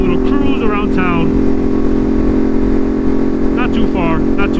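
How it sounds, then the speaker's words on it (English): A full carbon fiber Ducati Monster motorcycle with an SC Project exhaust cruises around town, its engine holding a steady, loud, even drone throughout, with someone talking over it at the start and near the end. "we're on the full carbon fiber Monster, taking it for a little cruise around town"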